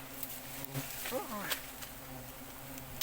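Bees buzz close by around a hive on a branch during a honey harvest, a fluctuating, whining hum with one bee sweeping past near the middle over faint background noise.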